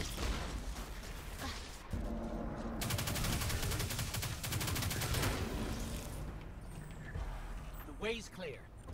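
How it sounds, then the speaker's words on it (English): Rapid enemy gunfire aimed at the player in Destiny 2, sustained machine-gun-like bursts over several seconds amid game noise, with a voice talking over parts of it. "You're shooting me."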